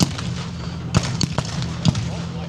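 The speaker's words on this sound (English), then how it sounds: "Mortar round drops in." Mortar rounds burst at a Bovington Tank Fest battle display, several sharp booms and cracks spaced about a second apart over a steady outdoor rumble, with a voice talking in the background.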